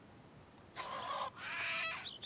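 A chicken in the game Rising World lets out two short bursts of loud clucking and squawking, close and agitated, over a quiet background hiss.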